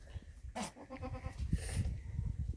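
A goat bleats on a homestead during birthing of newborn kids, giving one drawn-out, wavering call near the microphone over low rustling and handling noise.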